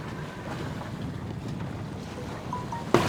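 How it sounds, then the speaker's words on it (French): A sailboat running under sail in a swell, with steady rushing wind and water noise around the hull and a sudden louder splash of spray near the end. "on s'est remis sous voile"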